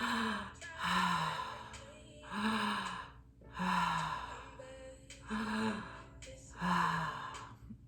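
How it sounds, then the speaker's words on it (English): Deep connected breathing in and out through the mouth during a guided breathwork exercise, about five slow cycles of audible inhales and sighing exhales in a steady rhythm, close and alone. "we're going to do a connected breath today, in and out through the mouth"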